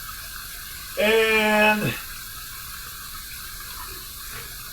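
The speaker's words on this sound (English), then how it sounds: "Let me drain this sink a little bit here while we heat up this razor under some hot water." Hot water gushes from a barbershop tap into a sink for about a second, loud and steady, then cuts off, leaving quiet room tone.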